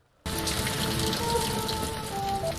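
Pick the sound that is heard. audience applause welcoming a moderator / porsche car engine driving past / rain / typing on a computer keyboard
rain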